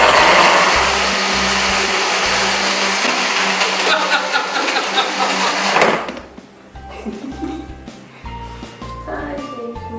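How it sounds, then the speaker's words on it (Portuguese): Loud whirring of a kitchen blender blending apple and water for a detox juice, running steadily for about six seconds before stopping abruptly, followed by quieter handling noises. "Vou colocar maçã e já vou começar a bater"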